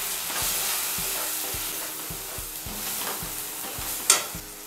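Ground turmeric, cumin, coriander and chilli powder with green chillies fry and stir in a pan for a catfish and potato curry, a soft steady sizzle broken by regular scraping strokes, close and quiet.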